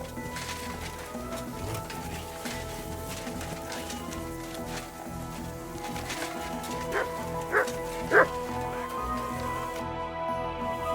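A dog barks in the medieval game Kingdom Come: Deliverance II, a few short barks in the later part over a steady ambient bed of rain and hoofbeat-like clatter, with no talking.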